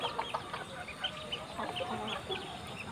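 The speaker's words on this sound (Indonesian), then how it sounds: "Ini ayam kampung biasa, ayam kampung lokal." Several local free-range village chickens cluck and chatter softly at close range, short irregular calls overlapping against a quiet outdoor background.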